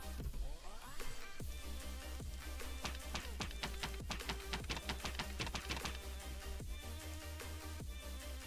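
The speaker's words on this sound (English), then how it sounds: "The sound of a printer brings back memories." A printer from the Minecraft Device Mod runs in a video game, producing a steady mechanical hum overlaid with rapid, regular clicking and ticking bursts that continue throughout.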